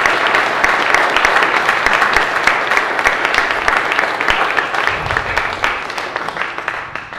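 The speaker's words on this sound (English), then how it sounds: "Can we rejoice together with applause at the wonderful gifts these are to us" Sustained applause from a large church congregation at a Sunday worship service, dense clapping that stays steady and then slowly tapers off.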